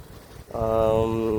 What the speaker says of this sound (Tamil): ஆயில் டீசல் இன்ஜின் வச்சு கம்ப்ரஸரில் ஓடிட்டுருக்கு